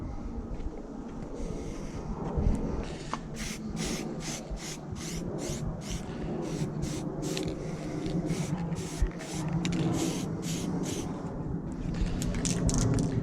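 Clear lacquer sprayed from an aerosol tin in a garage, heard as a rapid series of short, close hissing bursts, each a second or less, repeated steadily over a dull background rumble.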